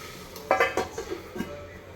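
A metal lid set down on a pan of frying chicken in a home kitchen: a few quick clinks and clatters close by, quiet otherwise.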